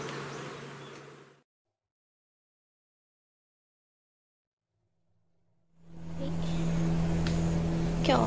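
Honeybees buzz around summer hives in a hot apiary: a dense, close hum fills the opening second, drops to near silence for several seconds, then swells back strongly, with no talking.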